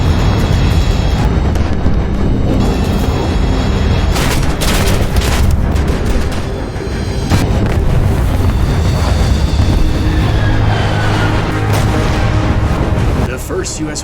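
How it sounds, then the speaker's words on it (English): A US warship explodes and is destroyed in a Pacific combat video game, a loud, continuous roar of blasts and booms with heavy low rumble and a voice heard over it. "The first US warship getting destroyed."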